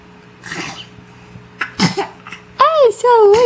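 A young child's single sharp sneeze, close and loud, with softer breathy sounds around it and a voice speaking right afterward.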